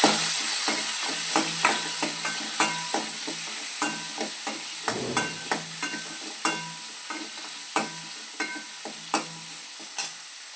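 Tomato sautéing in a hot pan with steady sizzling and a regular rhythm of spatula scrapes and taps, close and fairly loud, without speech.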